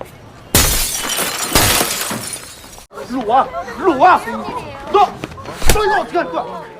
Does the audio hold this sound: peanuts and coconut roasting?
no